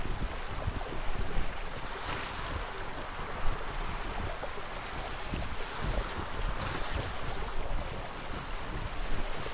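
Ocean waves wash steadily around a schooner under sail in the game Atlas, a broad continuous rush of water mixed with wind noise and no voices.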